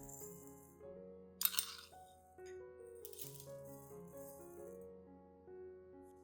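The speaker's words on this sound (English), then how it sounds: "I will use 3 tablespoons of rice like this, put them into a clean glass jar." Dry rice grains are poured into a clean glass jar, giving a brief rattling patter with a sharper burst partway through, faint against soft background music and without speech.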